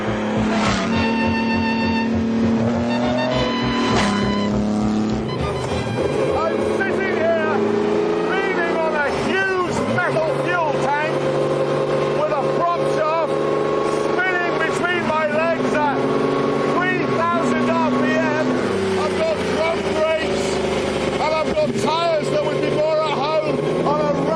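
A 1950s Maserati 250F Grand Prix racing car with a 2.5-litre straight-six engine howls loudly, its pitch climbing and dropping repeatedly through gear changes, while a voice talks over it throughout.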